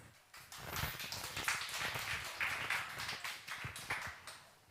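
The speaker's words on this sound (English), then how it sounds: "So a round of applause for this." A small audience at a tech startup demo day gives a light, uneven round of clapping for the next presenter, with scattered claps rising and falling over a few seconds.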